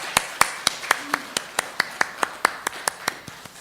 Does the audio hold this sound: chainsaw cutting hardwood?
no